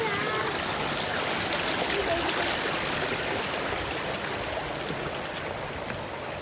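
Continuous rushing river water beside a level hiking trail on Mt Pinatubo, a steady broadband wash of flowing stream close by, with no talk over it.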